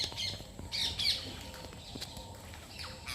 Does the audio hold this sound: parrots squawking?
yes